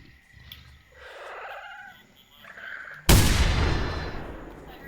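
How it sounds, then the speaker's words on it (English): Gunshot in the hunting video game theHunter: Primal, a single loud sharp blast about three seconds in with a long rolling decay, preceded by a faint low creature-like sound and a quiet voice. "Gunshot."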